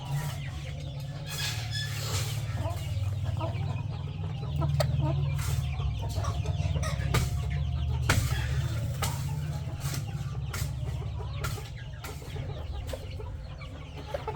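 Chickens cluck now and then on a farm, soft and scattered over a steady low rumble, with a few sharp taps in between.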